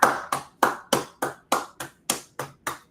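A congregation at a Sabbath service claps hands in unison, about ten sharp, evenly spaced claps at roughly three per second, close and loud with no talking.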